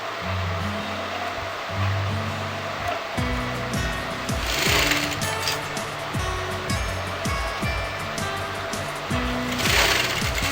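Domestic sewing machine running in short bursts while stitching the neck of a kurti, a steady mechanical whir with rhythmic needle thumps, start-stop pauses and close, fairly loud, with no talking.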